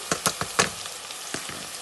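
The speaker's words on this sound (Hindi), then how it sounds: "अब इसके अंदर मैं इसको लहसुन अदरक के पेस्ट को डाल देती हूँ" Garlic ginger paste sizzles and spatters in a hot pan, with a few sharp crackles early on that settle into a soft, steady frying hiss.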